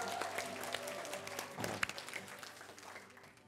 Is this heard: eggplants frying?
no